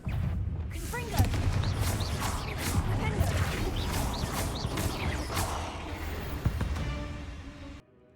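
A Confringo fire spell cast in a Harry Potter video game tears loose as a dense run of blasts and crashes with whooshing bursts, loud and continuous for several seconds before cutting off sharply near the end.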